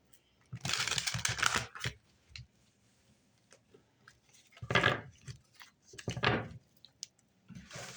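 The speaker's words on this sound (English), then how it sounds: "One more shuffle." Tarot cards shuffled by hand, two or three brisk riffling bursts separated by quiet pauses, close and fairly soft.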